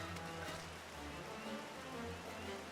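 Steady rain patters and hisses in the Final Fantasy XIV game world, with low tonal game music beneath the wash of falling drops.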